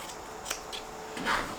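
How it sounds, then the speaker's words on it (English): Quiet, close snips of scissors cutting through quilting fabric while making a zippered tote bag, a few short crisp cuts in quick succession. "Take my scissors and cut this."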